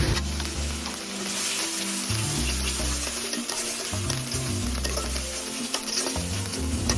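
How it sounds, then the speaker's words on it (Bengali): Onion and chili mixture with cumin paste fries in a pan, a steady close crackling sizzle with intermittent low rumbles and stirring scrapes throughout, no voices. "পেঁয়াজ মরিচের মিশ্রণটা কিছুটা সময় ভেজে নেওয়ার পরে তার মধ্যে মা দিয়ে দিয়েছেন জিরা বাটা।"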